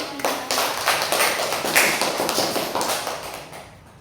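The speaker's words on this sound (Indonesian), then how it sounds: "Tepuk tangan." Classroom applause from students during a microteaching lesson, a burst of many hands clapping that swells quickly, holds for a few seconds and fades out toward the end.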